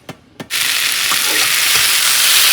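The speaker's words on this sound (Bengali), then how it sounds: "ফুল শাক দিয়ে বেগুন টেগুন দিয়ে একটুখানি ভাজা ভাজা করে নিয়েছি" Steady loud sizzling of leafy greens and eggplant frying in a pan, starting after two quick knocks and then holding a continuous hiss throughout.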